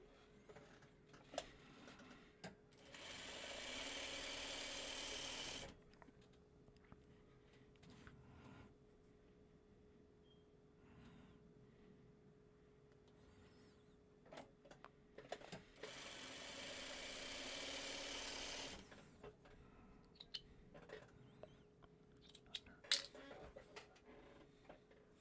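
A sewing machine stitches two pieces of fabric placed right sides together, running in two steady bursts of a few seconds each, separated by quiet handling noises.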